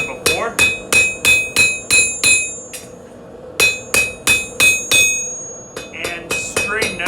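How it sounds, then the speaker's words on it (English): Hammer blows forging a stainless steel knife blade, a steady run of sharp, ringing metallic strikes in close quick groups with brief pauses between them, loud and near with no talking. "taking another heat, and I'm just smoothing out all my glancing blows that I've done before"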